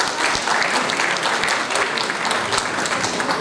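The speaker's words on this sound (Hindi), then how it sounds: "तो मैं उसे double diamond Shri Sanjeeva sir के लिए भी एक जोरदार ताली देना चाहता हूँ।" Applause for a speaker at a business event in Bihar Sharif, a dense burst of crowd clapping that holds steady and close throughout.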